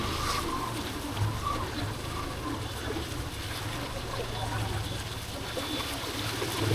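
A motorcycle ploughs through floodwater on city streets after a cyclone, a continuous churning wash of water and low engine rumble heard close and steady throughout, without any speech.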